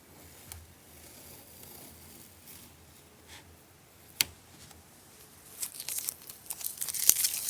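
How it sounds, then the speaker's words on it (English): Masking tape peeled off a pencil drawing on paper: quiet soft crinkling at first, then a sharp tearing rip, followed by a louder run of tearing and crackling strips near the end. "let's remove the masking tape"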